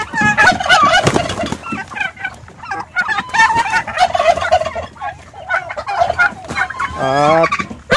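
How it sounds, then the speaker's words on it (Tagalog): Several turkeys gobble repeatedly in an enclosure where two hen turkeys hatched poults, with loud overlapping warbling calls filling the clip and a final rapid gobble near the end. "At yang dalawang inahing pabo,"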